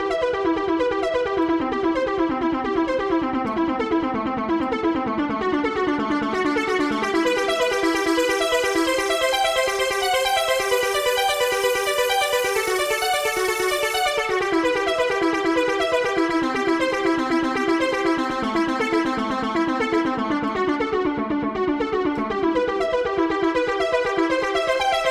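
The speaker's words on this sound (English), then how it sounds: "I chose the Ghosthack MIDI Arp" A Ghosthack MIDI arpeggio pattern played on a Phase Plant software synthesizer shaped to sound analog, a steady stream of rapid bright notes running continuously and loud throughout, with no talking.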